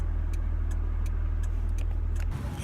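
A car engine runs steadily close by, a constant low hum with faint ticking clicks over it, shifting slightly near the end.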